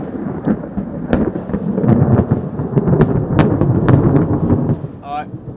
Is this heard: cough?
no